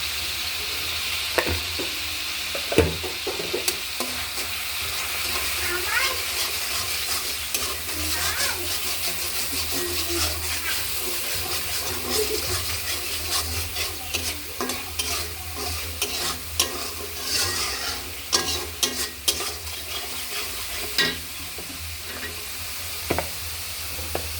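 Ground cumin and salt fry in hot oil while a spoon stirs and scrapes the pan, a constant sizzle broken by repeated clinks and scrapes, close, with a voice speaking over it at times.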